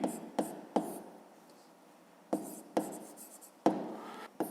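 A pen scratches out a fifth-grade maths exercise by hand, in short bursts of quick strokes separated by pauses, close and distinct.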